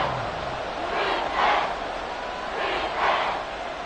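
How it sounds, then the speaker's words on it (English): A stadium crowd in an American football video game, Jaguars versus Houston, swells into two rising waves of cheering. The roar sits under steady ambient noise at moderate volume. "Well, this crowd into it now."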